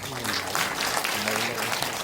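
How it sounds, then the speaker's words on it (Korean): A room of attendees at a political briefing gives a brief round of applause for an assemblyman, a quick burst of many hands clapping over a low, steady hum. "우리 신민호 의원님께 큰 박수 한번 보내주세요"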